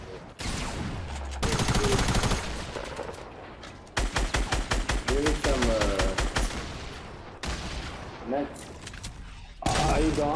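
Fortnite gunfire, with rapid automatic bursts and repeated single shots spread across the stretch, some loud and close, interleaved with game effects and excited players talking over the action.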